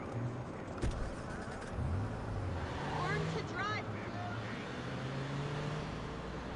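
A car engine in the video game Watch Dogs hums steadily under continuous road noise, with a few brief chirping sounds rising over it midway.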